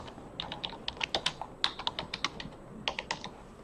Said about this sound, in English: this I have typed it by making use of keyboard